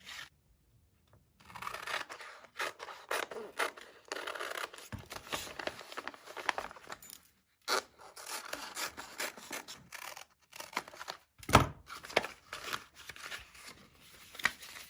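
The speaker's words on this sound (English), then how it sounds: "I'm going to grab my paper scissors and just cut along here and cut along there." Paper scissors snip through fusible-backed applique fabric in a close, steady run of crisp cuts and rasping slides, with brief pauses between strokes and no talking.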